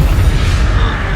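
Confringo spell explosion in the Hogwarts Legacy video game, a loud, close, booming blast with a brief low rumble.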